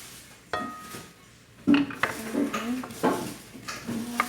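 Butter, about three tablespoons, being stirred in a mixing bowl for homemade ensaymada dough, with repeated scraping clinks of a utensil against the bowl in an uneven rhythm, close and moderately loud.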